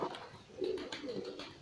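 A small rambon pigeon coos softly at close range, a few low, rounded coo notes rising and falling in a short sequence with nothing else in the background.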